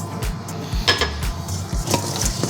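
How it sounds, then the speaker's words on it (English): Sliced potatoes tossed on a smokeless indoor grill plate with a utensil, heard as repeated soft clinks and scrapes in an uneven rhythm over a low background, close and without talk. "I'm just going to toss them around like this"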